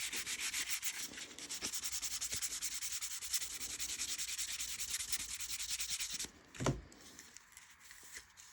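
Leather edge being sanded by hand with fine Japanese sandpaper, a steady close scratchy rubbing that runs continuously for about six seconds before stopping, followed by a brief knock and quiet handling.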